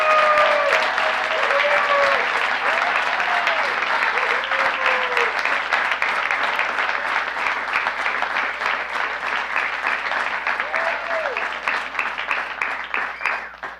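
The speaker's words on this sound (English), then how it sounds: "Let's give a round of applause for our Tab" A council meeting audience gives sustained applause for the Torrance 8U All-Stars youth team, dense clapping that slowly thins out, with whoops and cheers near the start.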